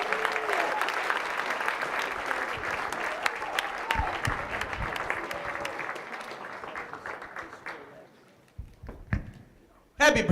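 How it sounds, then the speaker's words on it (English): An audience claps and cheers for a speaker at a live talk, loud sustained applause that gradually thins out and fades into scattered claps near the end. "Clap for Jesse."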